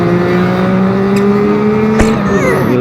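A 2017 Yamaha R15 revs hard while being ridden behind two four-cylinder motorcycles, giving a loud, close engine whine with rising pitch, a sharp burst near the end, and wind noise.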